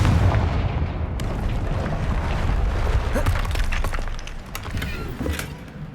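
Confringo fire spell explosions in the game Hogwarts Legacy: a dense, rumbling barrage of booms and blasts, loud and continuous, with heavy low thuds and crackling bursts throughout.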